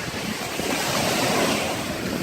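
Waves crash continuously onto a Canadian shoreline while strong wind roars across the microphone, a dense, loud wash with no voices.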